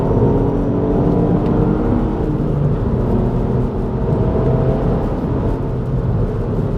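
A 2018 Ford Fiesta ST hot hatch engine drones and builds steadily from inside the cabin, a continuous loud rumble with rising whir as it accelerates, no voices.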